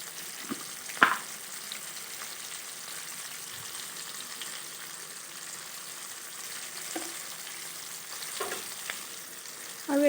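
Sliced onions with turmeric frying in hot oil in a pan give a faint, even sizzle, broken by a few soft clinks and stirring scrapes.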